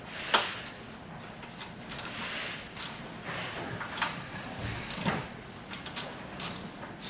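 A wrench loosens the adjustment bolts on a Bosch 4412/5412 miter saw, producing scattered ratcheting clicks and metallic ticks at close range.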